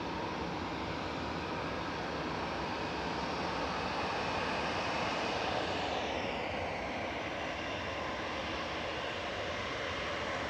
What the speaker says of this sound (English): EasyJet 2013 over to Alicante. A320 Classic 12-year-old aircraft operating this flight this morning.